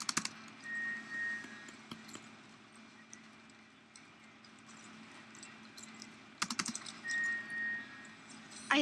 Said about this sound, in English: If you hear me double click on my keyboard, it's just a habit.